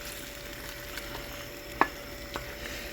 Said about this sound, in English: we are going to stir it up a little bit